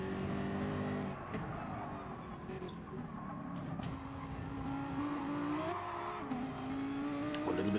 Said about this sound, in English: Just wants to stick with Azza onto that start finish straight again